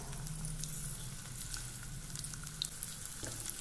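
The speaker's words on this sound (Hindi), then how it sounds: "तेल गर्म हो गया है, इसमें हम डाल देंगे 10-12 लहसुन की कलियां, 6-7 काली मिर्च।" Garlic cloves, black peppercorns and cumin seeds sizzle steadily in hot oil in a nonstick pan as a tomato soup base begins, a close, continuous crackling hiss with a few sharper pops.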